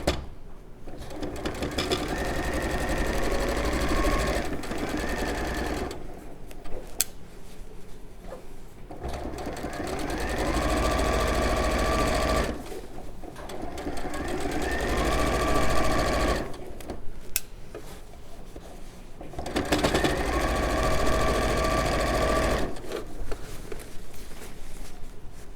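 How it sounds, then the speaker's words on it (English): A domestic sewing machine stitches on a flatbed during a weekend bag project, running in several bursts of steady rapid whirring with short pauses between, close and fairly loud, with faint background chatter. "there's nothing nicer than the sound of a sewing machine"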